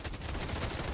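Rapid overlapping gunfire from players shooting into the air in the video game Bloodstrike, a dense continuous burst of shots filling the whole moment.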